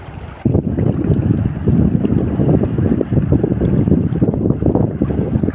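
Fast-flowing floodwater rushes during heavy rain, a loud, dense, continuous roar that starts abruptly after a short quiet moment and stays steady and close, with wind buffeting the microphone.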